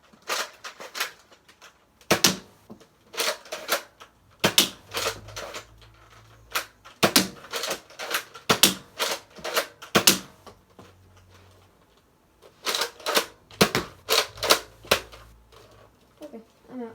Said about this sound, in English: So, I'm going to test fire the sniper rifle